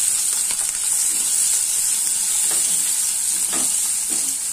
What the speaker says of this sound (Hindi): प्याज को हमें गोल्डन फ्राई कर लेना है